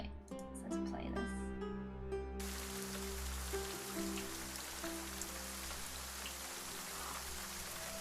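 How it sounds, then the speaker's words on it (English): Rain falls steadily as a dense, even hiss throughout, with a low background hum and a few sustained musical tones fading out early on, moderately quiet. "Let me know if this rain is too noisy."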